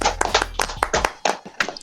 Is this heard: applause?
yes